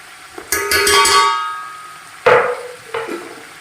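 Ginger and garlic paste hitting a hot pan while making chicken pulao, giving a bright, loud sizzle that slowly fades, then two further bursts of spitting and frying as the paste is stirred again.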